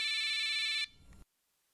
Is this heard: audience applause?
no